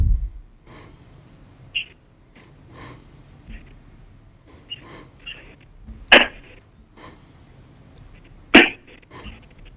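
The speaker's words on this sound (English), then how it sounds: "Sounded like somebody sneezed" Sneezes break through a quiet city council meeting over an open phone line, two sharp bursts standing out among faint sniffs, breaths and small noises.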